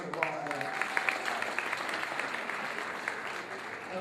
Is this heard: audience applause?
yes